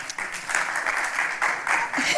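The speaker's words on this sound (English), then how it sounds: "so a quick round of applause for them" A panel audience at an indie music event gives guests a short burst of applause: dense, washy clapping from a crowd that swells and holds for a couple of seconds, loud and near.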